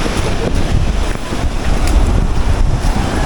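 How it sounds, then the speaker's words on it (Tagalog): Strong wind buffets the microphone in a steady roar, with sea waves and surf rolling underneath; no voices, just continuous blustery noise on the shore. "Oh, lakas ng hangin."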